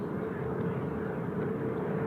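A China Eastern Airbus A320 airliner taxies at Seoul Incheon Airport, giving a steady, distant engine rumble and whine that holds even and continuous throughout, with no voices over it.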